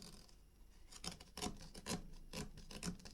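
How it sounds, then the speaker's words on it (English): A craft knife drawn along a ruler at a desk edge, scoring paper for a pastel Christmas memory book: a series of short, close rasping cuts at a steady rhythm, about six strokes spaced roughly half a second apart, with no voices. "I'm taking it to the edge of my desk, and I'm just going to run my knife"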